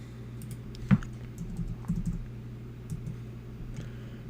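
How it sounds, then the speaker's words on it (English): Computer keyboard typing while entering budget figures, soft scattered key taps with one sharper click near the start, quiet and close against a steady low room hum. "I'm just typing in all the relevant information"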